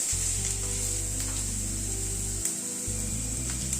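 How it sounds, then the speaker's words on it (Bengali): Chopped vegetables sautéing in a pan for sago upma make a steady, close sizzle throughout, over a low continuous background hum, with no speech. "সবজিগুলোকে মিনিট খানেক একটুখানি সতে করে নিলাম, খুব বেশি কিন্তু ভাজবো না।"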